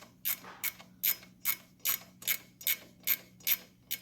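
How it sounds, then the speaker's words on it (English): Hand ratchet tightening the rear axle adjuster screws on a 2002 Harley-Davidson Road Glide: about ten crisp, evenly spaced clicking strokes in a steady rhythm, close and alone over a faint low hum. "I'm running these back 2 screws up."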